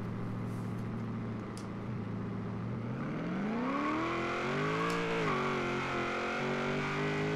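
Engine of a 1000HP SN95 Mustang drag build in Forza Horizon 3, idling roughly then revving up with rising pitch through the run, loud and continuous with a distorted, gritty tone.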